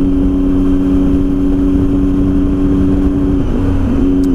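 Motorbike engine droning steadily on a night test ride of LED headlights, a loud continuous hum with wind rush and no talk.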